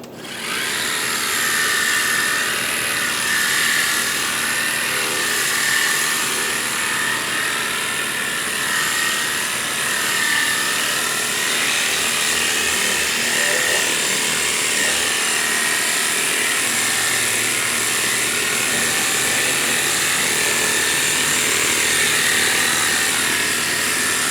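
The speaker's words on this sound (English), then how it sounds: "I'll go in here and lightly begin to blow off dust, dirt, pollen to make the rinseless wash contact a little bit safer for me." A car air blower roars steadily and loudly up close as it blows dust, dirt and pollen off a car before a rinseless wash, its whine continuous with slight wavering pitch throughout.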